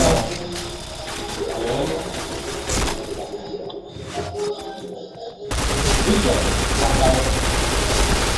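Loud bursts of gunfire and shots ring out in a shooting video game, with rapid volleys, a short quieter stretch, then dense firing, while players talk excitedly over the action.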